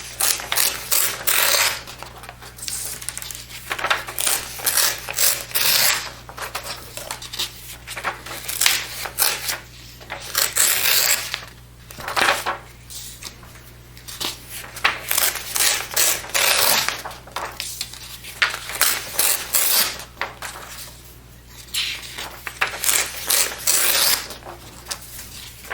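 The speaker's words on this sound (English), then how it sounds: "we need to tear out 8 pages" Paper pages are torn one after another from a pocket journal, each rip a loud, close, ragged burst separated by short pauses, with no talking over it.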